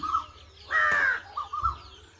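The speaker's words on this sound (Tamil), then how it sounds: "இந்த கோயிலில் ரெண்டையும் காக்கா துரத்துதுங்க" Crows caw loudly while chasing koels around a temple's mango tree: a couple of short harsh calls, then a long raucous caw and two more clipped ones, close and clear against a quiet outdoor background.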